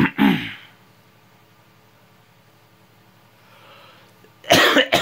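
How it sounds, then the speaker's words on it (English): A person coughs nearby, a loud harsh burst at the start and another at the end, separated by a few seconds of quiet room hiss with no speech. "sorry about me coughing though."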